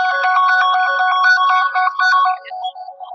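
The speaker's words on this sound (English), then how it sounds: "if you want to stop that ringing, just click on that" A phone plays a loud melodic ringtone, triggered remotely by a find-my-phone feature. The looping electronic notes sound close and clear, then break up and fade toward the end.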